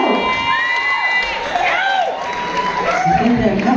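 A loud crowd at a live comedy and variety show screams and cheers, a sustained roar of whoops and shouting voices with some clapping underneath.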